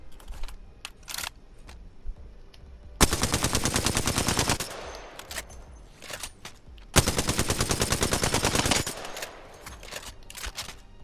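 Alternator SMG from Apex Legends fires in two sustained full-auto bursts of about two seconds each, rapid loud even cracks, separated by quieter handling clicks and mechanical rattles.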